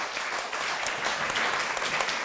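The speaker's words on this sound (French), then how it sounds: "vous pouvez applaudir." An audience at a literary event on crossing borders applauds the closing words of an author, a steady, continuous patter of many hands at moderate volume.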